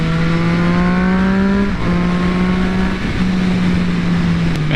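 A Triumph Daytona 675R sport motorcycle's three-cylinder engine accelerates loudly up through the gears, with a strong rising whine broken by brief dips at each shift, heard close up from the rider's position.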